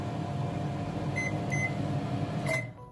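Sharp R360SLM flatbed microwave oven running on quick start, a steady close hum with a few short beeps from button presses, ending in a final beep as the hum stops.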